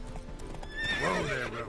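Geralt's horse Roach in The Witcher III gives a short burst of hoofbeats, then a loud rising neigh near the end.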